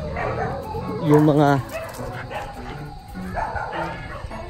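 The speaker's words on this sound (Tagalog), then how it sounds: "uy, mapapalaban yata ang aso ko." A dog barks and yips excitedly outdoors, a loud burst of barking early on followed by whining, with someone speaking over it.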